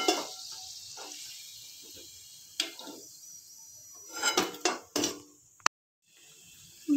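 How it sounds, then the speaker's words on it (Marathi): Wheat-flour modaks are lifted from hot oil in a quietly sizzling pan, with scattered metallic clinks and scrapes of a slotted spoon, a few louder clatters near the end, then a brief silence. "आपले मोदक छान तळले आता आपण ते काढून घ्यायचे"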